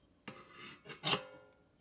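A few quick crisp snips of scissors cutting, close by and fairly quiet, with the last cut the sharpest.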